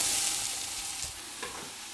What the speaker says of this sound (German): Die Zwiebeln gut anbraten.